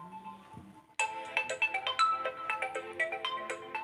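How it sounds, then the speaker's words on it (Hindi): A mobile phone rings with an incoming call at home, its bright melodic ringtone starting abruptly after a second of near quiet and repeating in quick, loud, rhythmic notes until the end. "1 मिनट में दूसरे फ़ोन पे कॉल आ रहा है"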